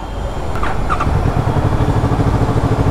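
A 2023 Kawasaki Ninja 650 sport bike engine runs steadily at close range, a loud, even low throb with a rhythmic pulsing texture and no voices.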